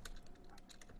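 Quick, light keystrokes on a computer keyboard while a business plan is written, a short run of soft clicks close by with no voices.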